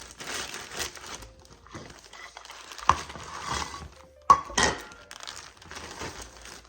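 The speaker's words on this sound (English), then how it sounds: "I just take a plastic bag." A plastic bag crinkles in bursts as toffee is packed away for storage, with sharp rustles and a couple of louder crackling snaps separated by short quiet gaps, close to the microphone.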